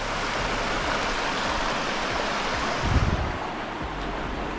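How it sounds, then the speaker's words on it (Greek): Louros river water rushing steadily in Epirus, a dense, close, broadband flow with a slight surge near the end and no voices. "Αχ, η ηρεμία του νερού."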